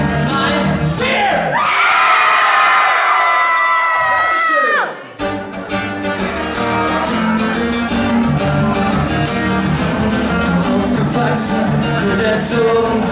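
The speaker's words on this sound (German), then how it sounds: "Alle schreien heißt ja alle schreien." A concert crowd at a live show at the Excited Goch event screams and cheers loudly for several seconds, the sustained shrieking cutting off as the band's loud music kicks in and carries on.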